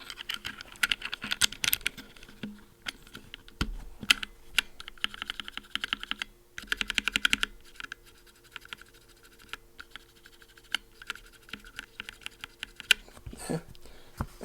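Continuous typing on a mechanical keyboard with stock Greetech black switches gives dense, fast clatter in rolling bursts, broken by brief pauses and a few heavier key strikes.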